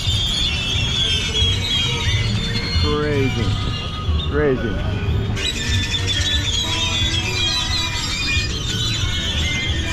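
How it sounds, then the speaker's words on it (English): Many loud birds squawk and shriek in a dense, continuous chorus at night in Mexico, heard over street bustle while someone speaks briefly. "Look at all the birds."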